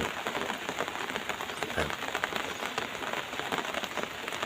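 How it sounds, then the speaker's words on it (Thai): Steady rain pours down during a storm, a dense, even hiss of drops striking a surface, continuous and fairly close. "ถ้าฝนตกอันนี้พายุเข้า"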